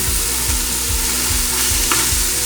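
Dried beef (carne seca) for escondidinho is stirred and frying in a pan with softened onion, giving a steady close sizzle broken by several low thumps of stirring, with no voices.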